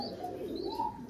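Rajshahi Giribaz pigeons at a pigeon farm give a soft, low cooing with a faint chirp, heard close and quiet for about a second, with no speech.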